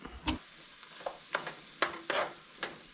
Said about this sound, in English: Let's go back to the browning of the meat.